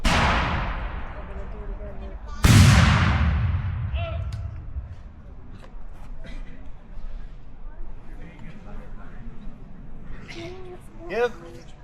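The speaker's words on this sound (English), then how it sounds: "This is what we call sustained rate of fire. The gunners are just doing a nice steady pace." Artillery cannons at a Battle of Camden reenactment in South Carolina fire at a steady sustained rate, two loud booms a few seconds apart with long rumbling decay, while a crowd murmurs and someone talks over them.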